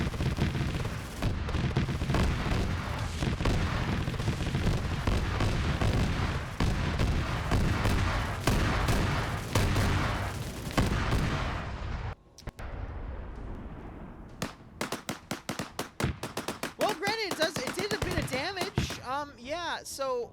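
Sci-fi support assets in the Pay4Pain video game fire dense sustained gunfire and heavy blasts for about twelve seconds, then a short pause and a series of sharp separate shots mixed with swooping synthetic effects, with a voice talking over parts.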